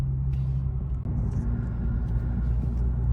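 A 2017 Lexus IS 350 with an RR Racing tune drives with a steady, loud engine rumble and road noise heard from inside the car, with no talking.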